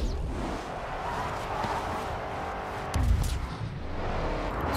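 A Dodge Charger slides out in the racing game Grid 2, its engine droning continuously, with a heavy thump and a faint skid partway through.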